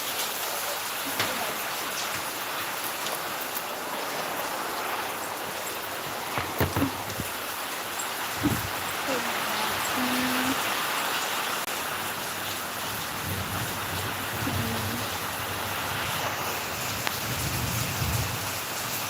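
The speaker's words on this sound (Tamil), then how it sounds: "மழை பெய்யுது." Steady rain pours continuously in the evening, a dense hiss of drops on surfaces with a few faint distant rumbles of thunder mixed in.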